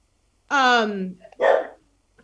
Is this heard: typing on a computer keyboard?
no